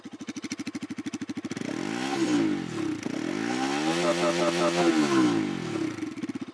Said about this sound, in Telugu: ఇప్పుడు ఈ వెహికల్ సౌండ్ ఎలా ఉందో ఒకసారి చూద్దాం.